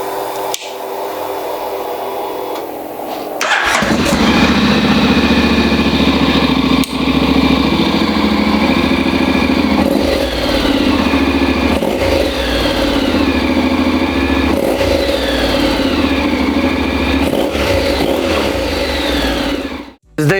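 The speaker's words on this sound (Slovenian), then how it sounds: "zdaj gremo pa sprobati, kako se sliši z novim izpuhom" Honda Forza 750 scooter with an aftermarket Termignoni exhaust starts up and runs loud and close, a steady deep engine note with repeated revs and throttle blips over about seventeen seconds before cutting off, no talking.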